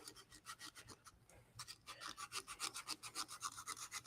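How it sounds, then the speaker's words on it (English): Sandpaper worked back and forth by hand inside a turned wooden cup, a steady rhythmic rasping of quiet, even strokes with a brief pause partway through. "Take my sandpaper again, and I'm just going to work"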